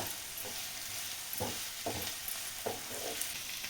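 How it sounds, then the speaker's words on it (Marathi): Chopped onion fries in oil in a pan for egg bhurji, a steady loud sizzle with a few soft stirring scrapes on top and no talking. "आता कांदा तळून घेते चांगला"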